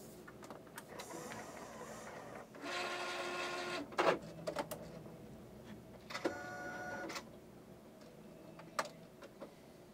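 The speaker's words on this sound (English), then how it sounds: "So I'm going to go ahead and turn the printer off." An Epson Stylus Pro 3880 inkjet printer powers down, giving whirring motor runs and mechanical clicks in a few short bursts, close but fairly quiet over a faint background hum.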